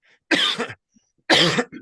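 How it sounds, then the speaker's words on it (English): Two separate coughs from one nearby person, each a loud rough burst about half a second long, with a short pause between them and a softer throat sound trailing the second. "I'm just gonna have a cough."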